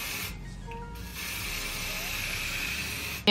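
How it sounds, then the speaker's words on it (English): EBIN Wonder Lace Adhesive Spray hisses from a can in a steady, close burst lasting a few seconds, with a brief sharp noise at the end. "This is EBIN Wonder Lace Adhesive Spray. And I'm just gonna spray this."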